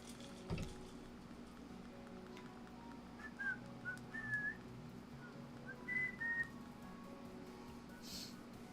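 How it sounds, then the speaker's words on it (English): Faint, short whistled notes rise and fall in a few brief bursts over a steady low background hum, with one sharp knock near the start. "Some people can whistle with their hands."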